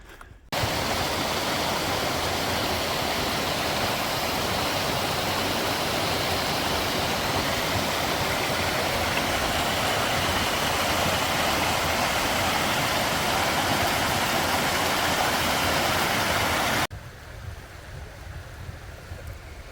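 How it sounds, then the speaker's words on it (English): A substantial river on a hiking trail rushes in a loud, steady, broadband roar that holds unbroken for most of the stretch, then cuts off abruptly to a quieter hush near the end. "Pretty substantial river there."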